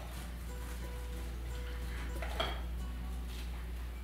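A knife slices into crispy air-fried keto pork chops and scrapes against a plate, with a brief crunchy cut near the middle set against a steady low background hum.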